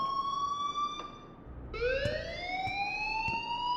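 A rising, whooping electronic alarm sounds in the video game Life is Strange. Two rising sweeps are heard with a short break between them, moderately loud, with faint clicks under them.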